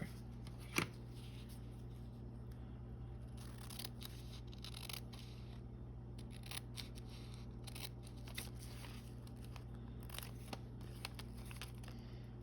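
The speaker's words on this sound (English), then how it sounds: "And then I'm going to cut the center line here." Scissors snip along the center line of paper while folding an origami bow paperclip, a series of quiet close-up cuts and crisp rustles over faint background hum.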